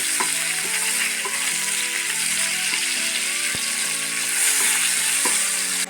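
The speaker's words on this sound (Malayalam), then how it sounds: "ഈ തക്കാളി ഇതിൽ കിടന്നിട്ടൊന്ന് വേവണം" Tomatoes fry in a pan for tomato kurma with a loud, continuous sizzle, broken by repeated scraping clicks from stirring.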